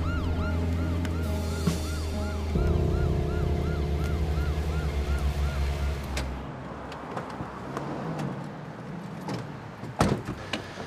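A police car siren wails loud and near in a steady rising-and-falling cycle for several seconds, then cuts out, leaving traffic noise and a few sharp knocks.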